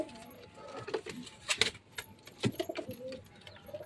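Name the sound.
pigeons cooing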